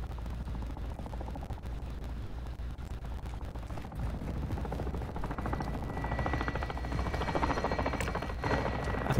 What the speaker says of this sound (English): There's a helicopter on top of one of the buildings.